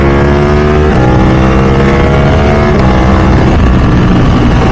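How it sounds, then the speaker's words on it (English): Ducati 1199 Superleggera sportbike engine under full acceleration, loud and close, with rising harmonic engine tones that reset at each upshift roughly every second, exhaust crackle between gears. "you can hear the exhaust popping on the upshift"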